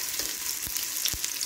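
Two medium-sized onions sizzle steadily in a hot pan, a continuous close frying hiss with a couple of soft stirring scrapes, no voices.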